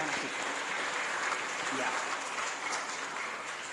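Church congregation applauding at a Christmas service, a steady wash of many hands clapping at moderate distance, with a brief spoken word over it.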